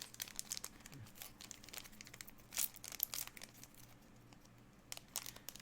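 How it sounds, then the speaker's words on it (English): Japanese Z/X trading card booster pack torn open by hand, a steady crinkling of foil wrapper with a few sharper rips, close and fairly quiet with no talk. "I think the technique is you pull the corner off and then you rip across the top"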